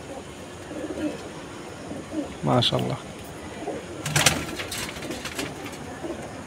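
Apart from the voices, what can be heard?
pigeon cooing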